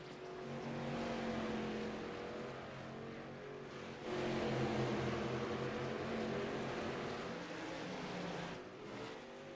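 Late model race cars roaring around the track at Southern National during an 80-lap feature, a continuous loud engine drone that swells as the pack passes, with no voices.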